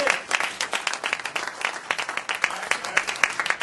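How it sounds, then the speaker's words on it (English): A crowd applauds a DJ at a public talk or lecture, steady dense clapping filling the room throughout with some overlapping voices mixed in. "Let's get a DJ a round of applause."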